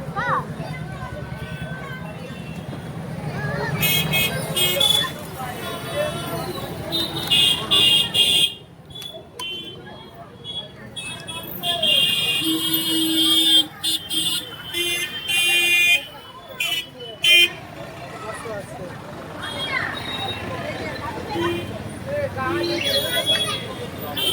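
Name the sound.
street traffic with car horns while crossing road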